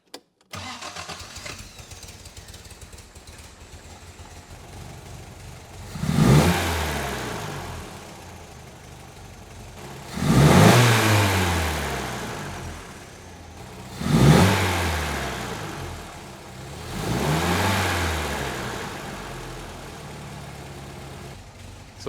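A 1964 Triumph TR4 engine cranks and fires, then revs in several swelling bursts roughly every four seconds before settling into a slightly shaky run, loud and close with no talk.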